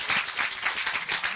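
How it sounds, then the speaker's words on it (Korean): Dense audience applause at a lecture on artists and the creative economy, a brief steady burst of many hands clapping together in a hall. "큰 박수 부탁드립니다"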